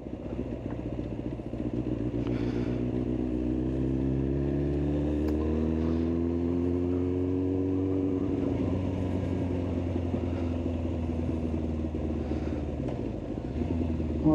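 A Kawasaki ZX9R motorcycle engine runs through an aftermarket exhaust, rumbling steadily and close, with the revs climbing and then easing midway before it settles back into an even drone.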